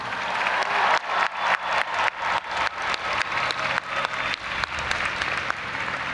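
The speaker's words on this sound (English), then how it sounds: "let's give them one more louder round of applause" Loud, sustained applause from a large crowd at the University of Michigan spring commencement in the Big House stadium, dense clapping with rhythmic surges, no talking.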